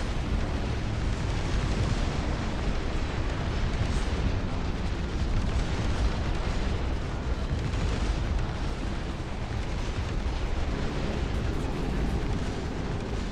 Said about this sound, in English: The bombs are quite good.